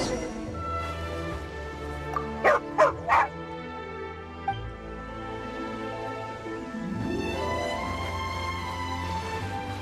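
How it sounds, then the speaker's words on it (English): A dog in the video game Genshin Impact lets out three quick, loud yips in a row, then a softer whimper, with a gentle game-music backdrop continuing throughout. "Oh, alright, there's a good dog. Calm down."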